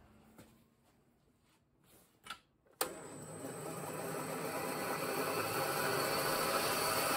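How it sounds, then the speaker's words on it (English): A milling machine spindle starts up in a knifemaking shop, a sharp onset followed by a steady, gradually building motor whir that runs on alone after a few quiet handling noises. "Let's get the spindle rotating."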